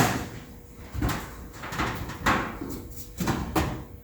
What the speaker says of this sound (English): Close the door and see how it fits.